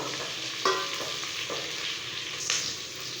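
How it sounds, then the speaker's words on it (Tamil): Six slit green chillies sauté in a pan for tomato rice, giving a soft continuous sizzle punctuated by a few sharp spoon scrapes and taps. "பச்சை மிளகாய் சேர்த்துட்டு ஒரு 30 செகண்ட் போல் வதங்கினா போதும்"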